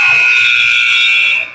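A loud, sustained electronic buzzer sounds at a junior varsity basketball game. The steady tone holds for about a second and a half before cutting off, with faint voices beneath it.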